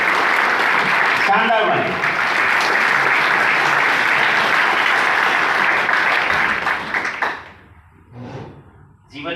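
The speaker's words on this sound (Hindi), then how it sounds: "एक बार किसानों के स्वागत में शानदार ताली मार सकते हैं सर?" Loud, sustained audience applause welcoming farmers fills a seminar hall for about seven seconds, then thins out and fades, with voices speaking over and after it.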